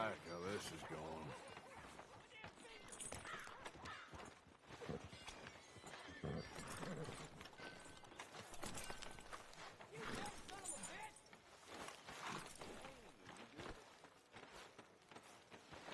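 Horse hooves clip-clopping and a whinny in the Red Dead Redemption 2 video game, the steady hoofbeats fairly faint with a neigh early on, under talk from game characters.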